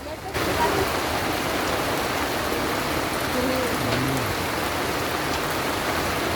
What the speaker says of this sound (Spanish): desde que paramos acá por la lluvia